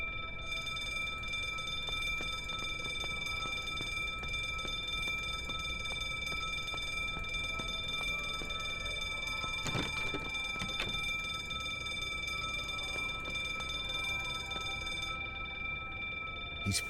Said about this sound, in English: He's fiddling with the alarm.